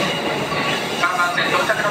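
Keisei 3100 series train (set 3157F) arriving at Yokohama station, a steady broadband rumble of wheels and motors on the rails that holds at one level throughout, close and continuous.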